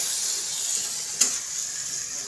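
Onion and tomato fry in a pan for a curry, a steady close sizzle with one brief stirring scrape partway through.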